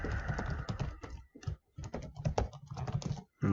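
Keys click on a computer keyboard in a quick, uneven burst of close taps, pausing briefly before a final few strokes.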